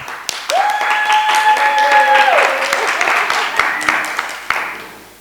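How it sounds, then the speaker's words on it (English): An audience at a literary festival book launch claps in scattered, distinct hand claps, with a drawn-out vocal cheer rising over the clapping early on before the applause thins out. "And we will keep applauding because it really is a very big deal."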